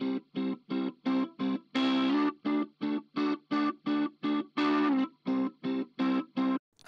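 Electric guitar shaped by a Neve-style Brit console EQ plugin plays short, evenly spaced chords in a rhythmic chopped pattern, with a couple of longer sustained hits, bright and upfront.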